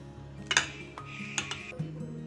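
Chopped onions, coriander and curry leaves mixed by hand in a bowl, giving a few light clinks and scrapes against the bowl over a quiet kitchen background.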